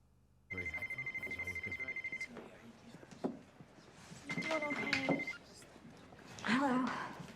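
A telephone rings in a 2006 film scene, a loud, steady electronic trill that repeats in bursts, broken by a thud and mixed with people talking.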